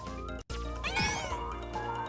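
A cat meows once clearly and close by, a drawn-out cry that rises and falls, heard over a steady musical game soundtrack during a Paper Mario playthrough.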